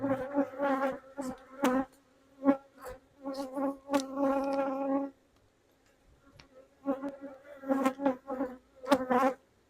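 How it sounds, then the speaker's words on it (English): Honeybees buzz loudly and close in an open beehive, with dense overlapping bursts of droning wing hum that break off briefly in the middle and then return. "they look like there's plenty of bees in here"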